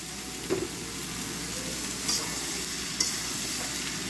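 Beans, eggplant, potatoes and shrimp sizzle softly in a pan with a steady frying hiss, broken by a few light stirring scrapes, with no voices.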